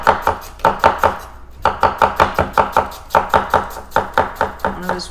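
A Shigefusa kitchen knife chops onion on a board in quick, regular strokes, each a crisp close knock, steady rhythm with one short pause and no talk.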